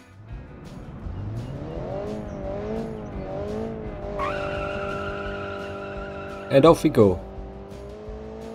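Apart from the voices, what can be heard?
car driving and skidding on a track in a car-design video game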